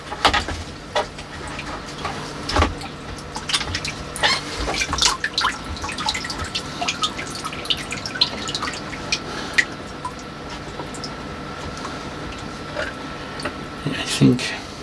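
Water running and dripping while juniper roots are washed during repotting, close splashes and trickles with scattered clicks, under intermittent talk.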